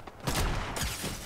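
Gunfire in the Fortnite video game: a dense, rapid burst of overlapping shots sustained for about a second, moderately loud with no talk.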